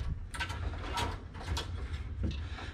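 A brake line flaring tool is tightened and spun, giving close metallic clicking and ratcheting with faint scrapes over a steady low hum.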